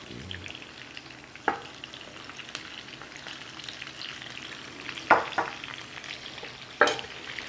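Meat stew for a spezzatino with potatoes fries in a pan with a steady close sizzle, broken by a few sharp crackles and stirring knocks, and no voices over it.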